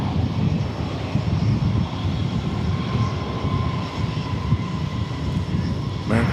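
An American Airlines jet rolls for takeoff on runway 18 left at Dallas Fort Worth airport, a loud continuous engine roar that is heavy in the low end, with faint radio talk beneath it.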